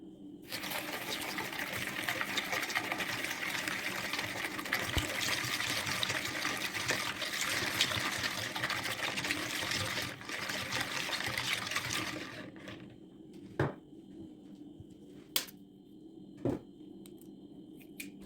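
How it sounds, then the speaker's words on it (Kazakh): Warm milk pours steadily into a bowl with sugar for about twelve seconds as a continuous liquid splash, followed by a few separate clinks of a spoon stirring against the bowl. "Ең алдымен ыдысымызға құмшекерді салып, жылы сүтімізді құйып, қантымыз ерігенше араластырып аламыз."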